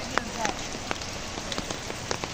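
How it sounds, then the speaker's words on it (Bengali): Rain falls steadily on a street in Dhaka during a heavy monsoon downpour, a constant hiss broken by soft drops and splashes close by. "এখনো মেঘলা, বৃষ্টি হচ্ছে এখনো।"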